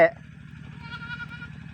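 A goat bleats, a single close, loud wavering call with a strained, buzzy quality that lasts nearly two seconds.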